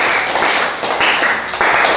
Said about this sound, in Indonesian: Tepuk tangan dulu tadi ya.